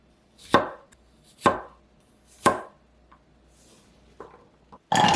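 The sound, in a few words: knife cutting garlic cloves in half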